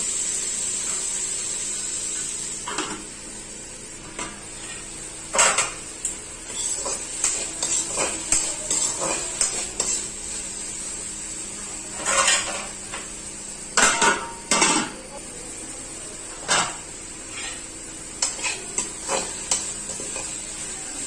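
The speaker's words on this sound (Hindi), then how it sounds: "अब डाल देंगे इसमें हम हमारा टमाटर, जिसको काट के रखे थे। अभी इसे अच्छे से भून लेंगे ताकि हमारा टमाटर पूरा पिघल जाए।" Chopped tomatoes sautéing in a pan for a Chhattisgarh-style amchur arbi dish, with a steady soft sizzle under repeated scraping and clinking as a spoon stirs against the metal, and no one talking.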